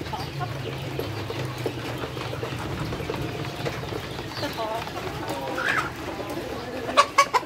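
Free-range village chickens of a local Indonesian breed cluck and call around a farm yard, with people talking nearby and a few sharper clucks near the end.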